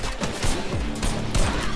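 Rapid bursts of gunfire in the Fortnite video game, several sharp repeated shots in quick succession, loud and close, with no talking over them.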